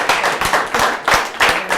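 At an award ceremony, an audience breaks into brief, loud applause, with hands clapping in a quick uneven rhythm, close and lively.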